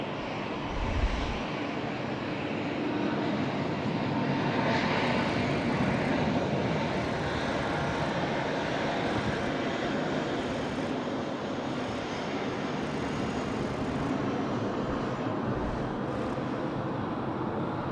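A jet airliner departs Sydney Airport, its engine roar broad, steady and loud throughout, holding a constant wash without pause and with no voices over it.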